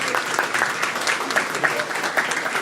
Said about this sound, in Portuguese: Vamos bater palmas para esse painel maravilhoso.